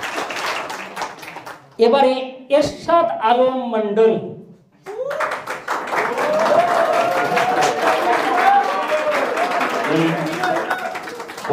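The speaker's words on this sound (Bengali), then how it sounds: "জোরে হাততালি।" A voice speaks at a freshers' welcome ceremony for a new batch of residential coaching students, then a crowd breaks into loud, sustained clapping that continues steadily to the end, with faint voices mixed in.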